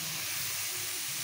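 Tomato puree sizzles after being added to fried spices in a pan while making aloo gobhi sabzi, a steady close hiss with no talking.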